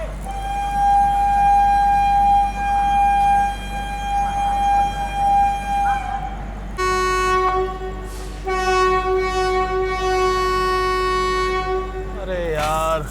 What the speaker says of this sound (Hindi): तो ये देखो अपने एकदम निर्धारित समय शाम के 7:50 पे अपनी राजधानी एक्सप्रेस निकल रही है हजरत निजामुद्दीन रेलवे स्टेशन से